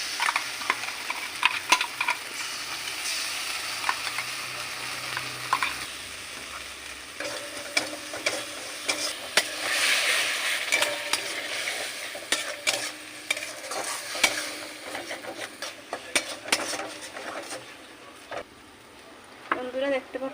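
Ground spice paste sizzling in a pan for cashew nut egg curry, stirred continuously with scraping strokes under a steady close fry hiss, with brief clinks from a utensil.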